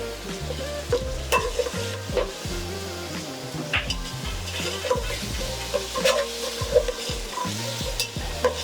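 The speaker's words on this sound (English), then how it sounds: "Just give a soft stir, not to break the rice, and let this get cooked." Egg biryani rice with tomatoes cooks in a pot while a spoon gives it soft, scraping stirs. The strokes repeat over a constant close sizzle.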